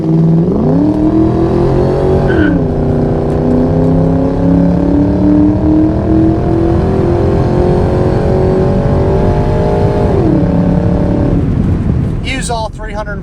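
A 2003 Ford Mustang Mach 1 with a 305-horsepower engine and automatic transmission accelerates on a test drive, its engine note climbing smoothly, dipping at a gear change, then rising again in a long, loud, continuous pull heard from inside the cabin.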